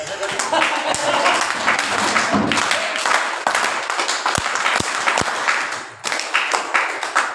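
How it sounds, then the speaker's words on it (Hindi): An audience at a Buddhist Dhamma talk claps steadily for several seconds, with three distinct sharp claps in an even rhythm partway through and voices audible alongside the clapping. "ज्यादा खुशी होती है ना, 3 बार ताली बजाना।"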